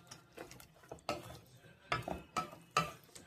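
A spoon scrapes and knocks through a yogurt-based masala curry in a pan, several distinct clacks spaced about half a second apart over a faint low sizzle, fairly quiet and close.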